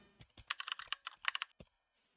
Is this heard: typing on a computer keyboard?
yes